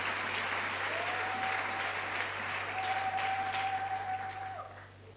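A church congregation applauds steadily at a sermon, dense clapping filling the room alone for about five seconds with a faint sustained tone running through it.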